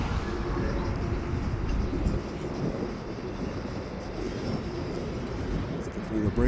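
Freight train pulling out of a yard with gates at a crossing, a steady broadband rumble of rolling cars heard nearby, continuous for the whole stretch with no voices.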